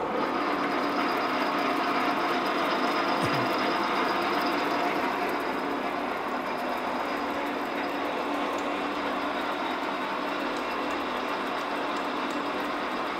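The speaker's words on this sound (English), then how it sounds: "And then the machine is switched on." A lathe in a workshop lab running after being switched on, with a continuous loud mechanical whir and rattle of gears holding steady throughout.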